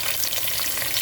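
Two big sliced onions frying for chicken biryani, a steady, dense, close sizzle with a bright crackling hiss that holds evenly all the way through.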